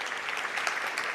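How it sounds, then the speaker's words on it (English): Audience applause for the speakers at a national Three Minute Thesis competition, a steady dense wash of many hands clapping throughout, fairly soft and with no talking over it. "Applause for all our speakers."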